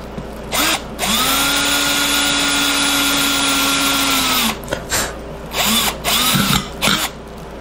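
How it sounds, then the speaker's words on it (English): A power drill whirs close up in a long steady run, drilling a hole in a paint can, then several short bursts of drilling follow. "I just drill a little hole in there"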